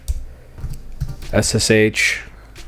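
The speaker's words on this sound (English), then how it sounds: "So we're going to type in sudo nano etc" A command is typed on a computer keyboard, giving a short run of close, light key clicks, with someone talking over and after the typing.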